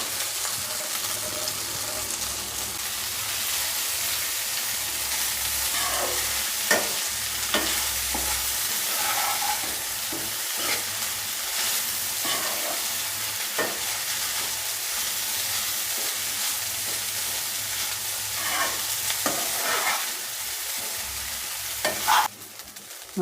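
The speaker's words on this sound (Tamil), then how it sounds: "இப்போ நம்ம இந்த சேமியாவை இதில் போட்டு கிளறிக்கலாம்." Ragi semiya upma is stirred in a hot pan, with a steady frying sizzle and occasional scrapes of the spoon against the pan throughout.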